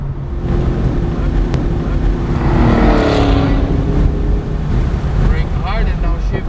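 A sports car engine rumbles from the cabin while driving on a track, a deep steady drone that rises and swells midway under heavy wind-like rushing noise.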